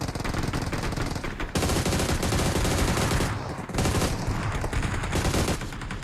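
Rapid bursts of automatic gunfire in a PUBG Mobile match, loud and dense, with sustained volleys broken by a brief pause before firing resumes.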